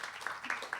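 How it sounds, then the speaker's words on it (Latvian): Audience applause in a hall during a panel discussion on green city policy: a short burst of clapping, fairly close, with a voice speaking over it. "aplausi ir pat ļoti pelnīti"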